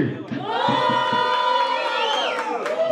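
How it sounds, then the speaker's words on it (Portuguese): A dense crowd at a rap battle semi-final roars, cheers and shouts in a sustained, loud wave, with whoops and a rising whistle-like cry over the din. "Barulho, muito barulho para as rimas do HS"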